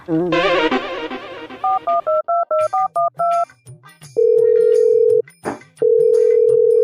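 A telephone keypad sends a quick run of about a dozen short dialing beeps, followed by long, loud ringback tones with a brief pause between them.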